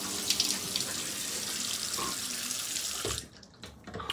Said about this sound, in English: First, we wash the face.